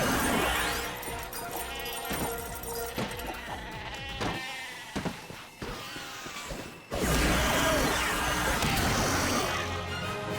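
Sheep bleats from the Sheepinator in Ratchet and Clank ring out amid crashes, smashing and mechanical clatter of game combat, loud and dense across the whole stretch, with no one speaking.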